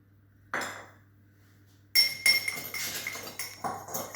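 A utensil clinks against a bowl while egg yolk and vanilla extract are mixed for shortbread, one brief knock followed by a quick run of close, bright metallic taps and scrapes.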